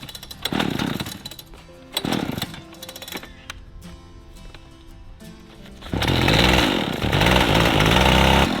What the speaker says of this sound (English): And so I'm gonna cut that out with this concrete saw.